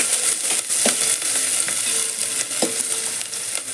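Chopped green chillies and onion fry in hot oil in a pan for rasam, giving a close, steady sizzle with occasional stirring scrapes and clicks of a spoon against the pan, and no voices.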